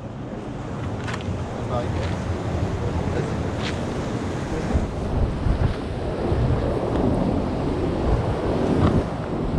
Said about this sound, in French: on va regarder ce qu'elles font les vagues un peu